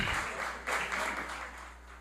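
Applause from the chamber during a city council plenary session in Brazil, as a councillor's honoree is introduced: a fairly faint, steady wash of clapping over a low hum, swelling briefly partway through.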